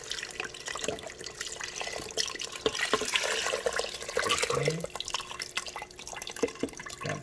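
Chicken broth and water poured into an Instant Pot Nova+ for shredded chicken, broccoli and rice, giving soft trickling and dripping liquid sounds at close range, with a brief spoken word.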